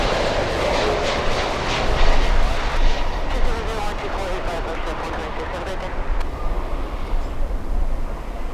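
Lufthansa flight LH462 airliner landing at Miami International Airport, a steady broad jet roar that swells and rumbles under excited talk throughout.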